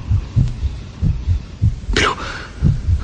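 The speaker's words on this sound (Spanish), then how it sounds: "los latidos se oían cada vez más fuertes, más fuertes" Heartbeat sound effect in a Spanish-language suspense radio drama of Poe's The Tell-Tale Heart, a loud, close, low double thump repeating steadily about twice a second, with a brief swelling whoosh midway and no talk over it.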